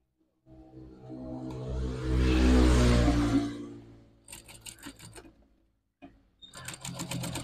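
A sewing machine stitching a curtain, its motor whirring up into a loud close buzz that runs for a few seconds, then fades, followed by rustling and light mechanical clicks as the fabric is handled.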